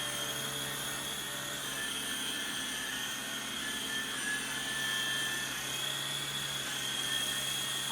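Syma S39 Raptor toy RC helicopter flying indoors, a steady close electric rotor whine with high motor tones holding level for the whole stretch.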